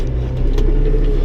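A used CVT tractor in four-wheel drive labours uphill in first range, its engine giving a steady low rumbling drone with slight surges, close and loud throughout.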